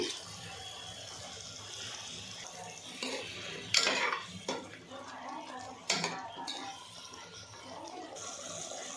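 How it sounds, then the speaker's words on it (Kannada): Water poured into frying masala in a pan for a brinjal curry, a close splashing hiss over steady sizzling, with clinks and scrapes of a utensil against the pan. "ಈಗ ಸ್ವಲ್ಪ ನೀರು ಹಾಕ್ತಾಯಿದ್ದೀನಿ"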